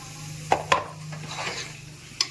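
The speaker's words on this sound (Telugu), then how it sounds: "ఇప్పుడు టమోటాలు ఫ్రెండ్స్, టమోటో వేసుకోవాలి" Tomatoes going into a pan of dried fish curry, with two sharp metallic clinks of a utensil against the pan, a soft shuffle of stirring, and a final clink over a faint low hum.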